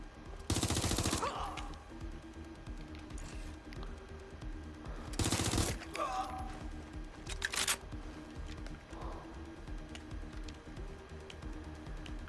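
Two sharp bursts of gunfire crack out several seconds apart over a low rumbling background in the video game Watch Dogs: Legion, followed by scattered smaller clicks and thuds.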